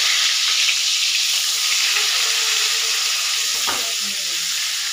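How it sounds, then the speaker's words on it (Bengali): Eggplant pieces frying in hot mustard oil, a steady loud sizzle that fills the whole clip, with a brief clatter of stirring or placing near the end and no talking. "চারটে করে আমি দিয়ে দেবো, তারপর একটু ঢাকা দিয়ে ভাজবো, সুন্দর সফট হবে বেগুনগুলো।"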